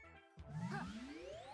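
A frog golf shot in the video game Ribbit King: a brief swooshing whoosh with bright rising chime-like tones sweeping upward, clean and alone after a moment of quiet.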